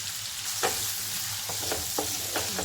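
Chopped onion, curry leaves and asafoetida sautéing in hot oil in a pan for egg bhurji, a steady close sizzle broken by several scraping stirs of a spatula.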